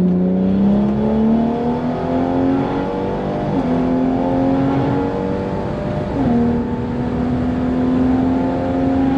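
A BMW 340i with a B58 engine and upgraded turbo pump on 93-octane pump gas revving hard through several gears, its pitch climbing steadily then dropping at each shift, loud and continuous throughout.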